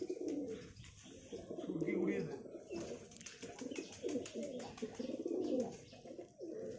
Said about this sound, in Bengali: এই যে পায়রা সব।